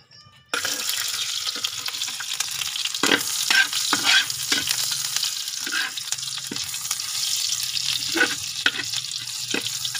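Spices sautéing in a hot pan, a continuous loud sizzle broken by repeated scraping strokes of a spatula against the metal, starting abruptly after a brief moment of quiet.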